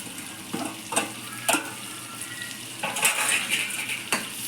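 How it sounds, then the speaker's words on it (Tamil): Egg curry masala with salt, coriander powder and curry masala powder being stirred in a pan, with a spoon scraping and clinking against the metal in several separate strokes over a soft background sizzle. "இப்படியே கொஞ்சம் கிண்டிகிட்டு இருக்கணும்"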